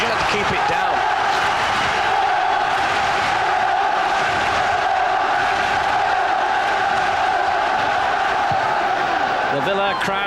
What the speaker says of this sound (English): The Villa crowd try to lift their players for one last final push perhaps